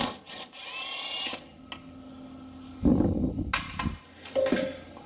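A power tool whirs and ratchets in bursts while the last bolt comes off a truck's 4R60E-type automatic transmission pan, close mechanical buzzing with clicks and metallic clatter between pulses.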